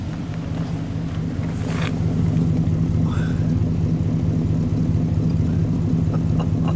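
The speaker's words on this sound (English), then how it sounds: "I'll get that exhaust note there." A 1940 LaSalle Series 52 car engine: a steady low drone with a rumbling exhaust hum, idling close by and rising slightly partway through, with faint background noise.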